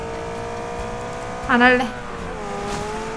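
A car drives along in the battle royale game PUBG, its engine droning steadily beneath a voice that speaks briefly over it midway.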